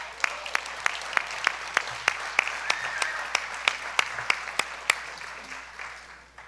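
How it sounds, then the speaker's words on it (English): A jazz festival audience applauds a departing festival figure, a loud burst of claps with sharp individual hits standing out, then gradually tapering off toward the end. "Give Bob a big hand."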